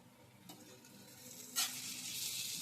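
Chili powder and sesame seeds sizzling in a hot pan, a soft hiss that suddenly swells to a loud, bright crackle as they are stirred, close and alone.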